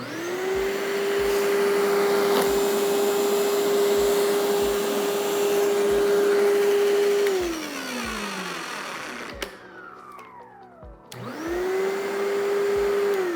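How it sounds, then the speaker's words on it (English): Tornado Deluxe CVD vacuum cleaner motor running steadily and loud with a high whine, then winding down to a stop, a brief clunk, and spinning back up to full speed. "When you hear that sound, that real high-pitched sound, you'll know there's something in there that vacuum doesn't like."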